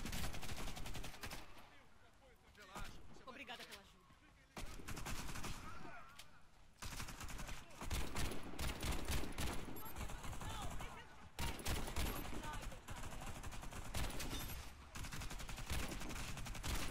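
Rapid bursts of gunfire in the shooter game Warface crackle almost continuously, with brief lulls, dense and loud throughout.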